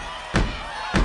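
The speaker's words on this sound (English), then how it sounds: "Stomp your feet like that" A group of people at a vacation Bible school stomps their feet, giving two heavy, booming thuds about half a second apart, loud and close.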